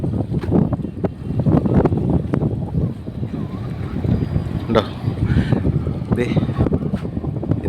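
A fishing boat rumbles past on the water at a beach, its low engine drone steady and loud, with wind buffeting the microphone and voices mixed in.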